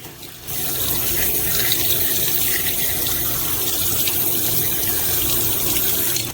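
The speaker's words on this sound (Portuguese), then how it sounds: "Agora eu vou enxaguar ela." A steady, close rush of tap water runs over a printed circuit board being rinsed at a sink, a continuous even splashing flow throughout.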